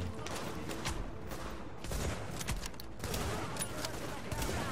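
Gunfire crackles in a Tom Clancy's The Division co-op session, fairly faint, a dense run of rapid shots with short pauses, somewhat distant and muffled.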